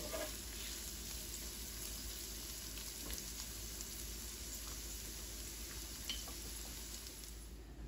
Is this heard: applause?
no